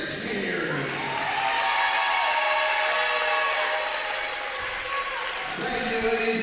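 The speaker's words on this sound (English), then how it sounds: "let's give one last round of applause for our 6 seniors" Applause and crowd cheering for six senior players at a women's college volleyball match between Trinity International University and Roosevelt. It is steady and sustained, filling the gym for the whole stretch.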